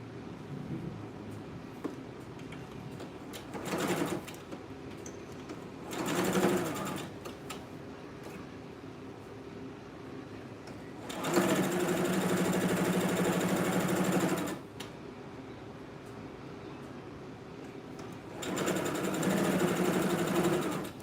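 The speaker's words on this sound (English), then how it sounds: "So I'm just gonna be stitching the sides now." A sewing machine stitches the side seams of a piece of fabric at a half-inch allowance. It runs in several bursts, two short and two longer steady runs of even, buzzing motor whir, with pauses between them.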